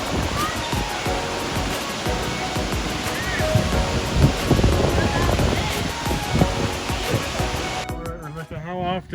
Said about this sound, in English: There's one of our waterfalls.